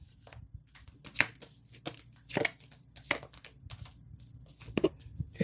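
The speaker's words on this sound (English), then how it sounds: "This is hard to shuffle, but the right cards always come through" Tarot cards being shuffled by hand during a reading: irregular bursts of crisp riffling and slapping, close up, with uneven pauses between them and no speech.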